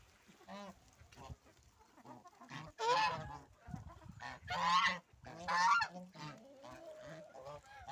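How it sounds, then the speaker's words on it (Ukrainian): Several geese honk repeatedly nearby in loud, nasal bursts, overlapping one another with short gaps between calls. "Це наші птахи."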